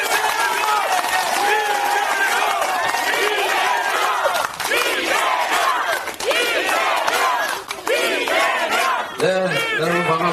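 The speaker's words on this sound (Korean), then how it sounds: "박수 한번 부탁드리겠습니다." A crowd at a Democratic Party political rally on a street in Gunsan cheers and shouts loudly, with clapping mixed in, while individual voices call out over the continuous roar.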